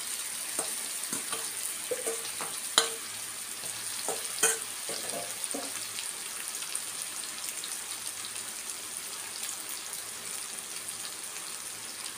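Godavari prawns sizzle steadily in a pan, with a few sharp clinks and scrapes as they are stirred early on, then an even, quiet frying hiss that continues alone.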